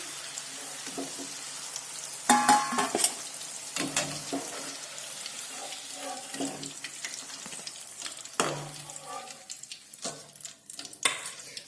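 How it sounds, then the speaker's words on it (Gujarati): Whole eggplants frying in hot oil, a constant crackling sizzle broken by clanks and scrapes of stirring in a pan, nearby and fairly loud. "તો હવે આપણે આ રીંગણને સારી રીતે તળી લઈશું"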